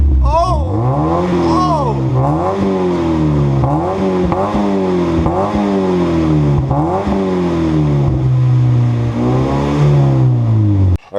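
Mazda Miata engine with a new aftermarket muffler revving repeatedly in a series of rising and falling sweeps, loud and close, while people talk over it.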